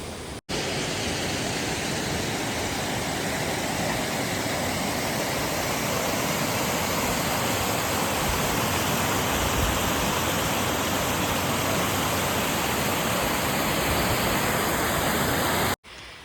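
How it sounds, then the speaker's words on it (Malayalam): A small river stream flows along a trekking trail near Harihar Fort in Nashik, Maharashtra, giving a steady, close, unbroken rush of water with no voices. "ഇവിടെ ചെറിയൊരു പുഴയൊക്കെ കാണാൻ കഴിയും, ഒരു അരുവിയൊക്കെ കാണാൻ കഴിയും."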